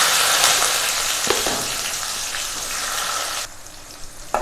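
Chopped onions sizzle hard in hot oil in a pan just after mustard seeds have popped, a loud, steady frying hiss with a few scraping stirs, easing slightly near the end; no one talks.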